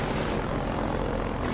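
A combat helicopter in the video game Half-Life 2 fills the scene with a loud, steady rotor roar and engine drone, dense and unbroken over the short stretch, with no speech.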